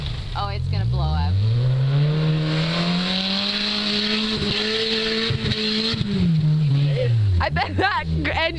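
A Honda car engine roars at sustained high revs, the pitch climbing, holding steady, then dropping, loud and close, with people talking over it at the start and end.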